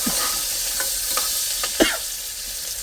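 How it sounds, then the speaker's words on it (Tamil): Eggplant curry ingredients frying in a pan for a Tamil-style kathirikai kuzhambu, a steady close sizzle with a few scraping stir strokes, no voices. "அடுத்தது நல்லா போட்டு வதக்கவும்."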